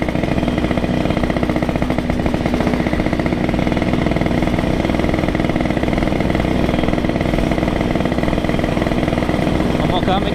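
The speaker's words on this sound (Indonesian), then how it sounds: "Motornya agak berebet-berebet." A borrowed motorcycle's engine runs rough and sputters while riding on a city road in Jakarta, a steady loud chugging drone that fills the whole stretch without letup.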